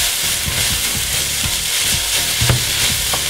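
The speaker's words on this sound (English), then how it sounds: "now I'm going to put the celery in" Finely chopped celery hits a hot pan with onions and sizzles loudly up close, broken by quick stirring scrapes and clatters.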